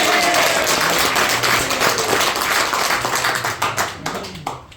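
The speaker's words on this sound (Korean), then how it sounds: "박수로 하나님께 영광." Church congregation clapping during a March 1st Movement commemoration worship service in Korea: steady, dense clapping close by that starts loud and thins toward the end, ending in a few scattered claps.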